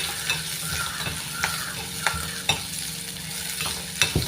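Curry leaves and green chilies fry in a pan with a steady, close sizzle, broken by several sharp spatters and stirring clinks.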